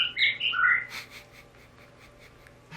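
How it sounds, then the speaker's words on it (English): Birdsong from the jungle area of the video game The Witness: a short burst of bright chirps and tweets, clear and close at first, then fading into a quiet background. "I'm not listening to the bird sounds"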